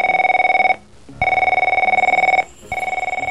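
Telephone ringing in short electronic bursts: two steady trilled rings with a brief gap between them, loud and close, with no talk over them.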